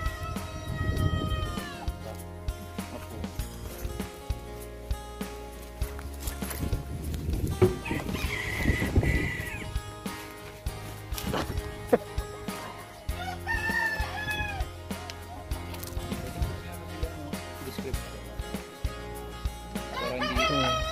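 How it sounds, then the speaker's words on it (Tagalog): Bantam chickens at a natural spring resort in Indang, Cavite crow and cluck repeatedly, fairly close, over a busy background with other birds. "Bansot na manok."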